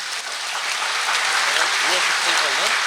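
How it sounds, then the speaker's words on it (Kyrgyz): An audience at an award ceremony for a book contest breaks into dense, steady applause that builds slightly, with a voice speaking over it. "Бир кол чаап койгучу."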